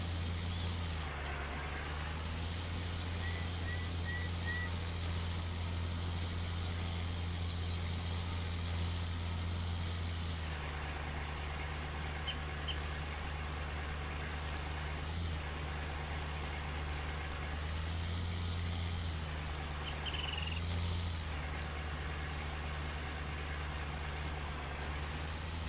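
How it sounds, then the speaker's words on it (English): An old John Deere tractor engine in Farming Simulator 19 rumbles in a steady, deep idle-like drone throughout, loud and continuous with slight shifts in tone, no talk. "Yeah, I like this tractor. Just listen to the sound."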